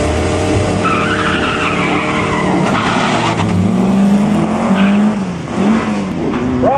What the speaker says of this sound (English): looks as though the Golf in the left-hand lane gets away, but then misses the gearbox somewhere, and Miller, the Jetta, gets going